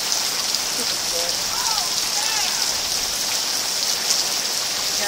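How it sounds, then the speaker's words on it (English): Hail and rain from a Florida storm pelt the ground in a dense, steady hiss with scattered sharper ticks, close and continuous throughout, while faint bird-like chirps surface briefly in the background. "I've never seen hail before."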